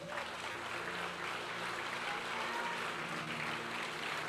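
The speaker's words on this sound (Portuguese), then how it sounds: "aplauda o Senhor" Church congregation applauding the Lord during a sermon, a continuous wash of clapping, fairly distant and steady without clear individual claps, with a low hum beneath.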